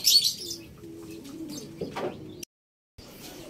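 A proven hen racing pigeon coos nearby in soft, low repeated phrases, with a brief bright chirp and a flutter of movement, then a short gap of silence before quiet ambience returns.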